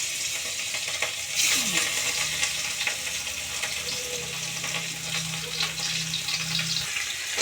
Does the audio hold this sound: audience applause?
no